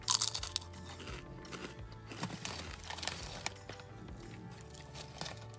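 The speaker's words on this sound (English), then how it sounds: "A little bit of crunchy crisp ASMR for you." Someone crunches on mountain chips while eating, a run of loud, close, crisp bites and chewing crackles that is densest at the start and continues in irregular bursts throughout, with no talking.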